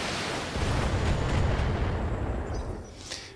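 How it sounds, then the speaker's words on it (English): A mech in the video game Thorium Mercs fires a salvo of missiles, producing a continuous heavy rumbling roar of launches and explosions that gradually fades, with a brief final burst. "helps if we activate our missiles to fire our missiles"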